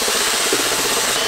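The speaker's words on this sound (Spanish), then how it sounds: "Un taladro para batir la masa." A power drill is used as a mixer to beat dough, giving a loud, steady whirring and scraping churn that stays constant and close with no talking.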